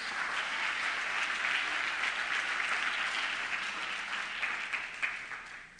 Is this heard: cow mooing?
no